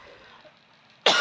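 A single abrupt cough right at the end, loud and close, after a quiet moment.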